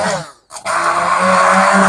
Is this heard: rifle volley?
no